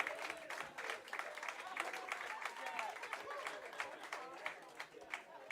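A comedy club audience applauds a comedian after his set, a fairly quiet, scattered clapping from a small crowd with some murmuring and a voice mixed in.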